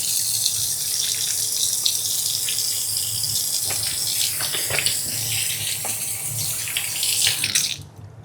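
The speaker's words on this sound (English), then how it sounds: "Let me wash my hands." A kitchen tap runs steadily while hands are washed beneath it, a close, continuous hiss of flowing water with small splashes, ending abruptly as the tap shuts off.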